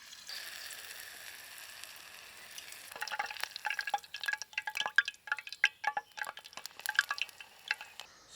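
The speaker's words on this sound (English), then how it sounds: "and we're going to start frying" Hot oil sizzles and crackles steadily as elderflower tempura fries, growing busier with sharp spitting pops after a few seconds; no voices.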